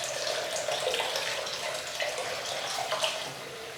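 Water from a bathroom tap running steadily into a sink to warm a King C Gillette double-edge razor, a close, continuous splashing hiss with no speech.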